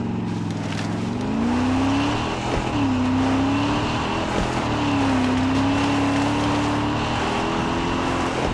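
Car driven in the shooter Far Cry 6, its engine a steady, close drone that climbs and settles in pitch as it accelerates and shifts, running alone with no talk.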